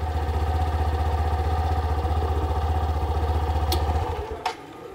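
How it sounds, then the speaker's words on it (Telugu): A Hero Glamour X 125 motorcycle idles up close with a steady, even engine thrum in first gear on its stand, then shuts off abruptly near the end, followed by a couple of faint clicks. "చూడండి ఇంజిన్ అనేది ఆటోమేటిక్గా కట్ ఆఫ్ అయిపోయింది"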